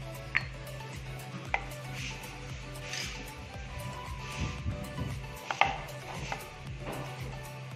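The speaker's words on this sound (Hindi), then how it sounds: "गट्टों को हमें इस तरह से काट लेना है।" A knife chops besan (gram flour) gatta into medium pieces on a board, giving a handful of sharp, distinct taps spread over a soft steady background.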